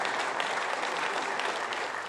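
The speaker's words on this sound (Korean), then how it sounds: "의원 대부분 자리에서 일어나 박수로 환영했습니다" Lawmakers in the National Assembly chamber applaud together in a dense, steady wash of clapping that fills the whole two seconds with no talk.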